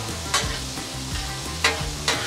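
Sweet potatoes fry on a Blackstone griddle with a steady sizzle, broken by about four sharp spatula scrapes as they are stirred and turned. No one talks.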